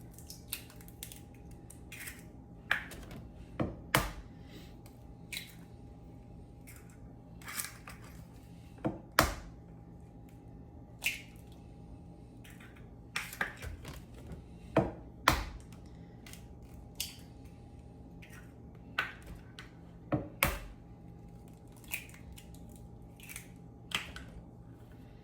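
Eggs cracked one at a time into a well of flour for homemade pasta, nine eggs for eight cups of flour: sharp, faint cracks and taps spaced irregularly across a quiet kitchen background.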